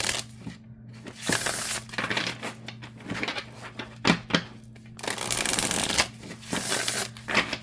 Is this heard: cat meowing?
no